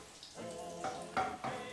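Butter and oil sizzle and bubble in a frying pan, a soft steady crackle with small bursts of popping over a quiet hiss.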